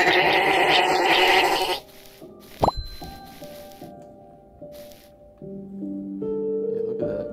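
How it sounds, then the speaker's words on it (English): A sheep bleats in the Minetest voxel game, a short sharp game sound near the middle followed by sustained synthetic tones, after a loud noisy opening passage. "It's a sheep."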